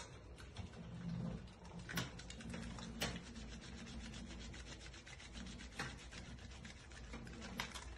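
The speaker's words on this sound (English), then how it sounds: "Rub your hands properly, rotationally rubbing backwards and forward, up the fingertips." Soapy hands rub together at close range, a soft repeated scrubbing and swishing broken by a few sharp little clicks, quiet and with no voices.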